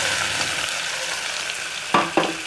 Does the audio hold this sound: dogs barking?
no